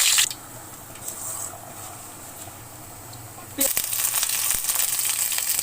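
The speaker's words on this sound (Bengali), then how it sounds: "রসুন কুচি এবার এটা ভালো করে ভেজে নেব" Cinnamon and chopped garlic hit hot oil in a wok, a faint hiss at first that swells abruptly into a louder, crackling sizzle partway through.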